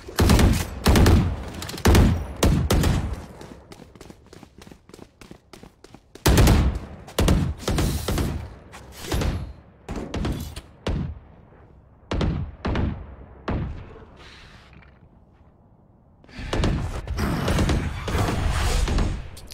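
Video game gunfire rattles in rapid bursts of loud, dense shots, pausing briefly and resuming in long volleys, with almost no voice on top.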